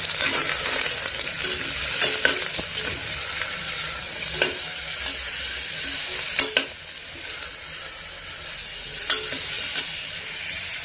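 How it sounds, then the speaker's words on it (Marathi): Drumsticks sautéed in a spice masala in a pan, steady sizzling with repeated sharp scrapes and knocks of a spoon stirring, close and fairly loud throughout. "हे छान परतून घेतलंय मसाल्यामध्ये."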